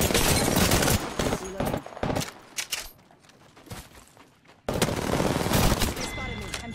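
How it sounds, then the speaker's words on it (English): Rapid bursts of gunfire strike the player in Apex Legends, loud and close, dropping briefly into a quieter lull before heavy fire resumes in dense overlapping volleys. "They spotted me. I'm taking shots."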